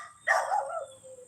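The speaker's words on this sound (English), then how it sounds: "That's my neighbor's dog over there barking." A neighbor's dog barks once from a distance among trees, a single faint, slightly drawn-out bark over quiet outdoor ambience.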